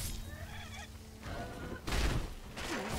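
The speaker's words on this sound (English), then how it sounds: "Damn, another chicken." Chicken clucks and squawks from the video game Sekiro, a few short fowl calls in bursts mixed with game sound effects, no talking.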